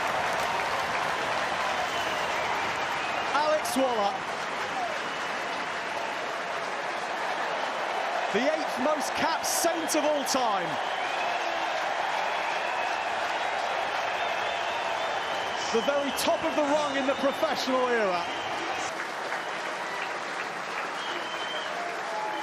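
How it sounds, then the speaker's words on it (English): At a Gallagher Premiership rugby match, a Saints home stadium crowd keeps up a steady roar and applause after a try, with louder swells now and then beneath a commentator talking throughout. "But all the applause here for Curtis Langdon as Saints move their market stall forward for the first time this afternoon."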